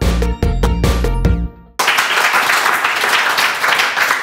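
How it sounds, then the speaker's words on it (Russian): Applause from an audience at a children's school quiz contest, dense steady clapping that bursts in after a few struck musical chime notes and continues loud and close to the end. "Аплодисменты вам."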